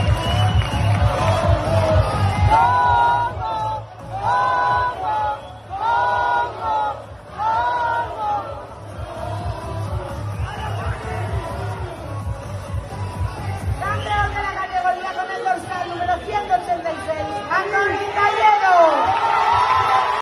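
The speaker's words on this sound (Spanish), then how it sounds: "En el momento de adjudicarse campeón, el público empezó a gritar tongo" At a bodybuilding competition, an audience shouts and jeers in rhythmic repeated chants, a loud crowd roar with whoops that swells and then breaks into scattered yelling.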